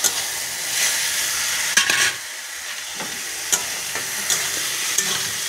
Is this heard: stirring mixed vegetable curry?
yes